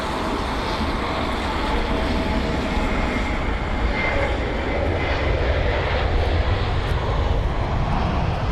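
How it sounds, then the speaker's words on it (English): An Airbus A320neo arrives at London Heathrow during Storm Henk, its engine roar loud and continuous with a broad rushing wash that holds steady for the whole stretch, no voices over it. "And that's a 320neo for you."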